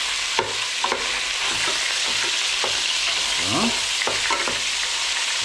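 Chili con carne meat fries with the lid open in a Bosch Cookit, a steady close sizzle broken by repeated scraping strokes of the stirrer. One short spoken word is heard.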